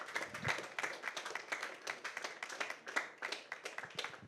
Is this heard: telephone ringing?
no